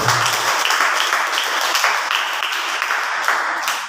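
A church congregation at a fasting prayer service claps together, a dense, loud burst of applause that fills the space continuously for a few seconds.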